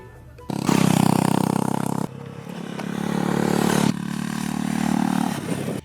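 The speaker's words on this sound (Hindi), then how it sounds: "पर फिर भी इसका क्रोम्ड आउट एग्जॉस्ट एक सुनहरा गीत गाता है।" Honda CB350 H'Ness motorcycle with a chrome exhaust, engine roaring close by in two strong revving bursts, dropping back to a lower idle between and after them.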